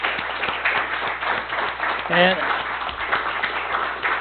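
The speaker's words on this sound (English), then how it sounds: "could I have a round of applause for a real good volunteer?" A crowd at a city council meeting breaks into applause for a volunteer, many hands clapping in a steady, dense patter throughout, with a short voice cutting in briefly partway through.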